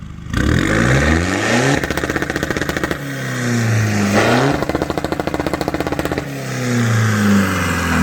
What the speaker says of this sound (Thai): ลองเบิ้ลตัดครับ